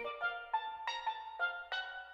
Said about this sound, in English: I decided to use some Caribbean steel drums,